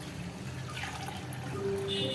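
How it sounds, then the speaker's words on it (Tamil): Water pours into a pot over washed rice and moong dal, a soft, faint trickle and fill running continuously in a quiet kitchen. "அதில் 3 கிளாஸ் தண்ணி ஊற்றுறேன்."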